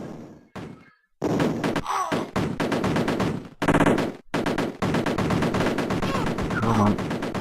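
Rapid bursts of machine-gun fire and an explosive grenade blast from the Commodore Amiga game Cannon Fodder, loud clattering volleys broken by short silences, with chiptune-like effects layered over the shots.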